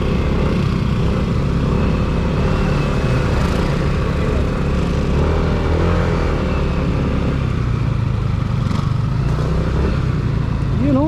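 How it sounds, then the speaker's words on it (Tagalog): Several motorcycles ride together along a countryside road in Mangatarem, Pangasinan, a steady loud mix of engine drone and wind noise, with people talking over it. "Yun oh, ayun yung mga motor, ang dami oh."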